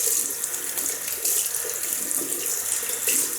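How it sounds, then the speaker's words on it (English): Tap water runs steadily into a sink to wet a synthetic shaving brush, giving a close, continuous splashing hiss with slight surges as the brush moves under the stream. "Just wet the brush."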